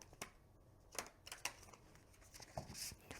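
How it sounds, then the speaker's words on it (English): Tarot cards from a smaller-sized deck being side-riffle shuffled, with several short papery riffle bursts and soft clicks at close range, quiet and with no voices. "let's try a side riffle"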